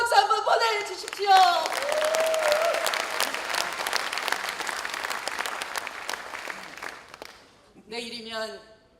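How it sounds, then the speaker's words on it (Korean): Delegates at a Korean party convention in Gangwon give a long round of applause from a large crowd, starting under a speaking voice and tapering off before the talk resumes. "고모님을 향해서 큰 박수 한번 보내주십시오."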